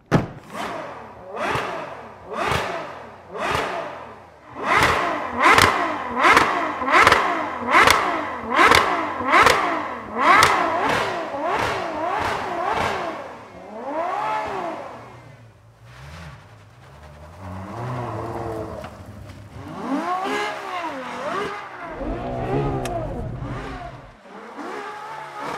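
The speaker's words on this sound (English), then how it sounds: "it sounds like the engine's at the rear. I know, well, the exhaust is." A 789 bhp Ferrari 812 Superfast with a V12 engine revs hard in repeated sharp bursts, then accelerates away in rising, shifting pulls. It sounds loud and close, with a rear exhaust note.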